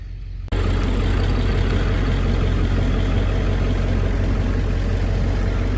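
A truck engine runs steadily and close during hay bale loading in a field, a low continuous rumble that kicks in after a brief quieter start and holds loud throughout.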